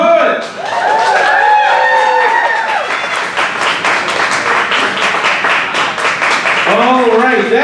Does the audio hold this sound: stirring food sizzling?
no